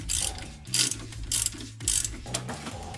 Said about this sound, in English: Start out by removing the mounting bolts on the old shocks.